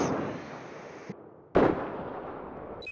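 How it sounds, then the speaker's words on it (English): Grenade explosions in the Battlefield 4 multiplayer map Siege of Shanghai during a Team Deathmatch: a small muffled thump, then a much louder close blast with a rumbling tail over steady battle noise. "Grenade! Another grenade!"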